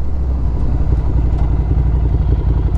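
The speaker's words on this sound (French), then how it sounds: "on va se faire un petit test de freinage, tu vois, on va se mettre à 60. Hop, et on bloque tout." A Ducati Scrambler Desert Sled motorcycle gives a loud, close, rumbling engine drone with a steady throb as it brakes hard from 60, with some clatter under the engine note.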